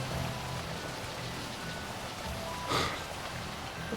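Heavy rain pours steadily in the Final Fantasy XII video game, a constant hiss of falling water at moderate level with a brief brighter splash near the end.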